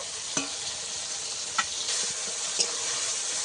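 Ginger paste and tomato stir-fry in a pan with a steady sizzle, broken by three sharp spatula scrapes spaced about a second apart, close up and with no voices.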